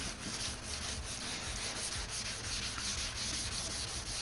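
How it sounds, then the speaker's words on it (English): Scuff sanding a body panel on an MKIV Toyota Supra, a continuous close, even abrasive rubbing with a gentle back-and-forth pulse and no voices. "basically just give her the old scuff."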